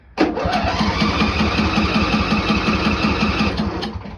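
A Briggs & Stratton Intek 21 HP engine cranks with the choke on, a loud, steady starter churn with rapid regular pulses that runs without a break for about four seconds and never catches.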